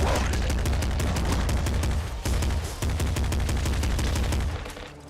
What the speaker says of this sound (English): Pop rifle is better than the machine gun, in my opinion.